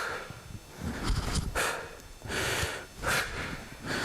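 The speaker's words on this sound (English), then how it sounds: "Right, breathing out." Sharp, forceful exhalations from a karate student throwing straight punches in a Shotokan class, several bursts of breath in an irregular rhythm, close and fairly loud with no talking.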